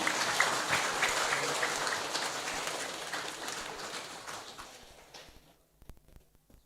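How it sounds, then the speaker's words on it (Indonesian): An audience in a church hall applauds at a pastor's ordination ceremony in Gunungkidul, dense continuous clapping that holds steady for several seconds and then fades out, leaving a few scattered last claps. "Marilah kita berikan tepuk tangan yang meriah."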